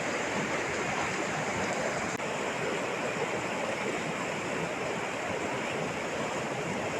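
Loud, steady roar of rushing floodwater after heavy rain in Davao de Oro, a dense continuous wash of noise with no pauses, close by and unbroken.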